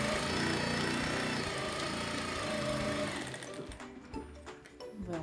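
Sewing machine stitching a seam across a dish towel, running steadily and close for about three seconds before slowing into a few uneven bursts and stopping.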